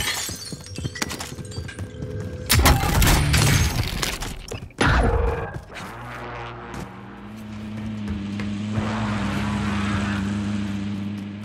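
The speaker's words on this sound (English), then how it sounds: "Enemy attack chopper is in the AO" A Call of Duty Modern Warfare enemy attack helicopter roars close with loud, dense rotor and engine noise amid bursts of gunfire and crashing, then settles into a sustained droning hum.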